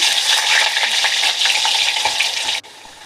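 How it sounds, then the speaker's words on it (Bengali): Potatoes fry in mustard oil in a wok with a loud, dense sizzle and stirring, close by, before the sound drops abruptly to a softer hiss near the end. "আলুগুলো ভেজে নেব।"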